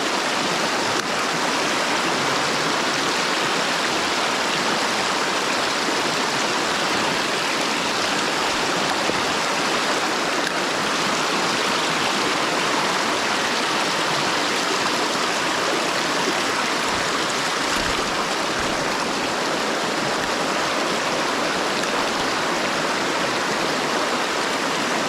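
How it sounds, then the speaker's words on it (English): A fast-flowing small salmon river rushes steadily and loudly close by, a dense unbroken hiss of water with no voices. "The water is really ripping through"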